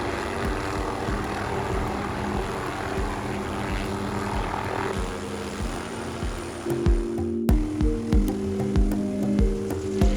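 A steady, loud helicopter engine roar with rapid rotor chopping, close by and continuous, growing slightly stronger and more pulsing toward the end, before a tour flight over Niagara Falls.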